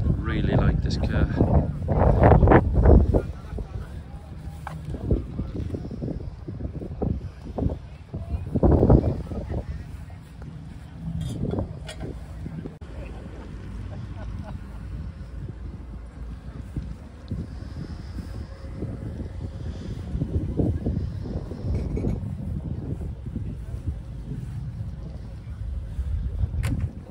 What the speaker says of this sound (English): Sun's shining at the moment, guys. It's quite windy though.